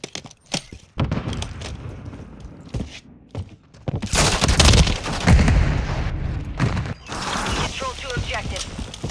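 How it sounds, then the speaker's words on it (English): Rapid gunfire from a Call of Duty Modern Warfare 3 multiplayer match, with bursts of automatic fire and single shots. It grows loud and dense in the middle, mixed with thuds, footsteps and brief shouted voices. "Taking effective fire!"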